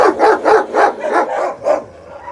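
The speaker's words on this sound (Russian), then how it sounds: "Акела, с этой стороны, там собаки." Dogs at a wolf reaction test bark in a quick series of about six loud, close barks at an even rhythm, ending in a lower trailing sound.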